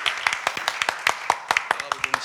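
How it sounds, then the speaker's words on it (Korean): An audience at a church youth worship service claps in a group, with a quick run of sharp, close hand claps in an uneven rhythm that lasts a couple of seconds. "박수 한번 쳐주세요."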